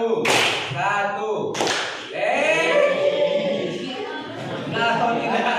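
Students in a classroom clap game clap their hands, two sharp claps a second or so apart, with a teacher's voice speaking over and between them.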